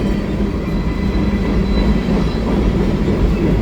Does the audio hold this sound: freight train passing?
yes